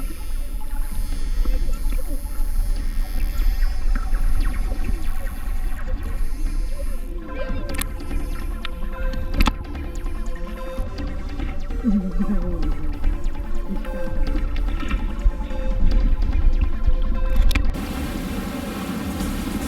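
Steady rushing water and low engine rumble of a boat moving along, continuous throughout, with faint voices and wind mixed in.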